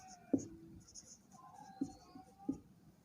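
A geometry step being written by hand, with three soft distinct pen taps and scratches spaced across a few seconds, faint and close, against quiet background noise.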